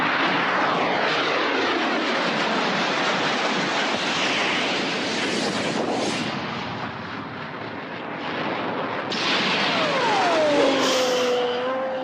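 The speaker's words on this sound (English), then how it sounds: "los A4 argentinos que cerca del suelo vuelan ahí con sus vuelos rasantes" Argentine A-4 jets fly low overhead, a loud, continuous roaring rush that swells and fades slightly across the stretch before surging again near the end, with no voices.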